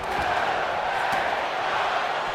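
Crowd cheering in a wrestling video game arena in Dallas, a steady wash of roaring voices with no breaks, loud and continuous throughout.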